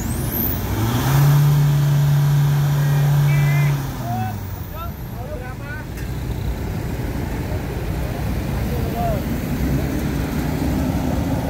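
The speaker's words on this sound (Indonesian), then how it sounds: "mobil digas selama berapa detik" 2017 Isuzu MU-X diesel engine revved hard during an emissions test, a loud rising roar that holds, then drops back to a rumbling idle with a hiss, with people talking over it.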